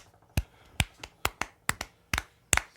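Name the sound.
slow clap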